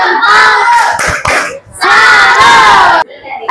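A group of teachers in a training class chants a rhythmic Indonesian clapping cheer, loud voices shouting in unison with bursts of hand claps, a short pause, then another strong chanted burst.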